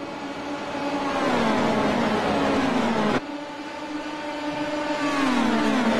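Race cars on the first lap through turn one, loud engines droning and whining as they pass close by in a steady roar, one car after another, no talk.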